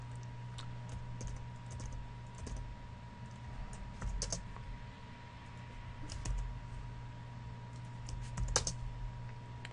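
Computer keyboard typing, close but quiet, with irregular clusters of key clicks and short pauses as code is entered over a steady low hum.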